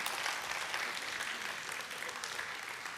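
A lecture audience at a government ministry's special talk claps steadily, a soft, even wash of applause heard from a distance for a few seconds.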